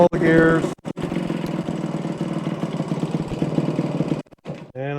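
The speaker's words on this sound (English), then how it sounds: "Engine's running pretty good." A 1973 Suzuki TC125 motorcycle engine runs steadily at a close, loud idle, with someone talking over it at the start and end.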